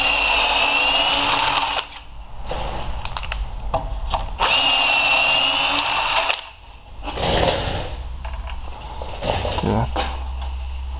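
A power drill cuts threads into the intake manifold of a Lexus LX 570 (Toyota Land Cruiser 200) during an LPG conversion. It runs in two sustained high whining bursts separated by pauses, with close handling clunks and short revs in between.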